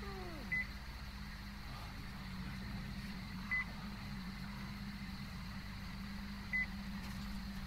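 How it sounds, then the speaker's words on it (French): A motion detector in the video game Metro Exodus beeps three times at even intervals of about three seconds, short, thin tones over a low steady hum. "Oui, on a toujours le bip-bip, hein, c'est le détecteur de mouvement"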